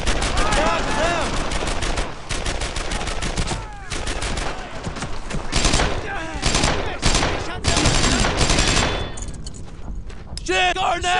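Sustained automatic and rifle gunfire in the World War II squad shooter Brothers in Arms: Earned in Blood, loud, dense bursts nearly without pause, with soldiers' voices shouting through the firefight.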